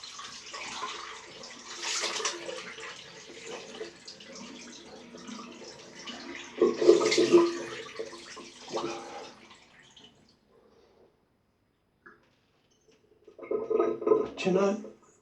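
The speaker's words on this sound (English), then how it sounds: "Now, I'm going to rinse off." Water runs from a tap while someone rinses off after a straight razor shave, splashing in uneven bursts under a man's speech, then stopping briefly before a last splashy rinse.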